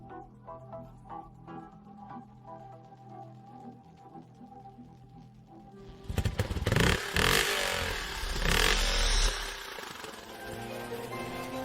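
A heavy motorcycle engine bursts into a loud, rough rev partway through, with clattering and roaring after a quieter stretch of music-like tones.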